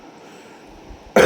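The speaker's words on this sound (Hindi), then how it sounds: "गला थोड़ा ख़राब है तो खांसी आ गई" A single sharp cough from someone with a sore throat breaks in near the end after a stretch of near silence, loud and close.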